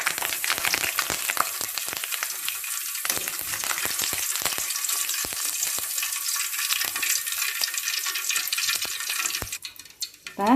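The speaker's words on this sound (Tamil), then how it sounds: "இதில் இப்போ ஒரு கொத்து கருவேப்பிலை போட்டு நம்ம பொரிச்சு எடுத்துக்குவோம்." Bunch of curry leaves frying in hot oil in a pan with the stove switched off, a loud dense crackling sizzle with sharp pops throughout, no voices.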